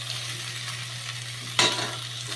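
Spice paste sizzling in a wok, a steady close frying hiss with a low electrical hum underneath, then a single sharp scrape of a spoon against the metal near the end.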